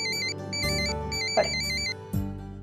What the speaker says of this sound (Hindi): सोनी का नाम लिया और उसी का फोन आया